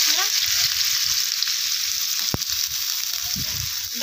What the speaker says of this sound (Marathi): आता आपण ह्यात कांदा टाकूया.